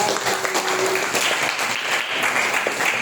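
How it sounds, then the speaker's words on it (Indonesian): Students in a school history class give a round of applause, a continuous mass of clapping hands that stays loud and busy for the whole moment. "tepuk tangan udah"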